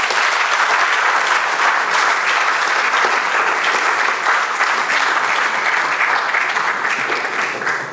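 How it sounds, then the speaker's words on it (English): Loud, sustained applause from a large audience, dense clapping that holds steady throughout and tapers slightly at the end. "A round of applause, please."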